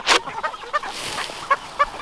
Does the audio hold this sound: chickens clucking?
yes